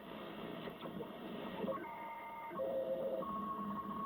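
A Yaesu FRG-8800 communications receiver tuned across the 14 MHz shortwave band gives steady hiss and static, with brief whistling carrier tones and heterodynes rising and sliding as the dial moves, fairly close and without speech.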